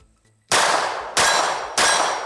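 Three loud, sharp shots from a Czech Vz.70 pistol firing S&B full metal jacket rounds in single action, evenly spaced about two-thirds of a second apart, each with a short ringing tail outdoors.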